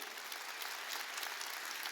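A church congregation claps together during a Korean Wednesday worship service, a steady, dense wash of many hands that holds an even level throughout, with no voices standing out.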